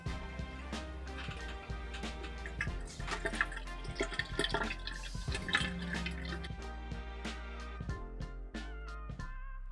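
Water trickles and drips out of a boat's bilge pump. The sound is quiet and close, with irregular splashy drips over a soft running flow.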